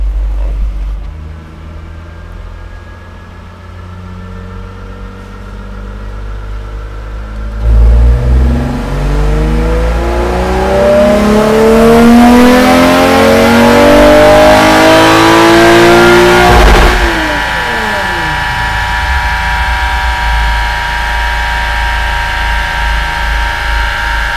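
A car engine on a dynamometer power run revs hard, its pitch climbing steadily over several seconds before cutting back and settling to a loud, steady idle.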